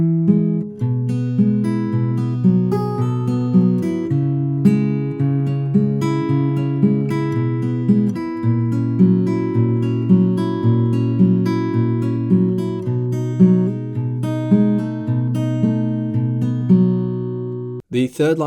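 Steel-string acoustic guitar fingerpicking the second tab line of a song, in a steady rolling pattern of clear plucked notes over an alternating bass, played alone.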